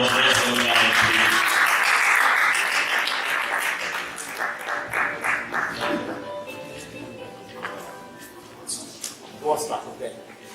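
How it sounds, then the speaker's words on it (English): Applause from a congress audience in Belgorod greeting a keynote speaker, dense and loud at first, then thinning into scattered claps as voices murmur underneath. "With a round of applause, let's go down, please."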